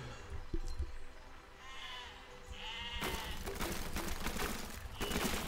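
Sheep bleat in the physics-building video game Besiege, a few short wavering cries heard early and faint, followed by louder bursts of crackling, popping game noise.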